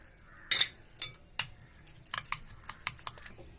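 A spoon taps and clicks against a bowl while egg paratha filling is mixed with turmeric, salt and chili powder. The clicks are light, close and irregular, with no voices.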